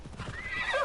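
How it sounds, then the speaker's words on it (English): A horse in the video game Assassin's Creed Odyssey gives a short whinny, with a few hoof clops just before the neigh rises and trails off, all within a second. "Call my horse."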